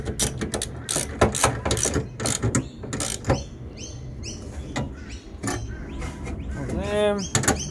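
A hand ratchet tightens the tailgate lock bolts on a GWM Cannon ute, giving close, rapid bursts of clicking pawl strokes with short pauses between them.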